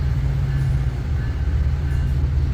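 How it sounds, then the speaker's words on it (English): A commuter train on the exo Saint-Jérôme Line rumbles steadily, heard from inside a car with a constant low drone while another train runs ahead on the other track. "We got a train in front of us going in the same direction."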